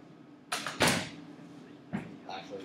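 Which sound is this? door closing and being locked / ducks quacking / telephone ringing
door closing and being locked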